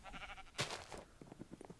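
A sheep in the video game Minecraft gives a short, quiet bleat under faint background game sounds, followed by a few soft clicks.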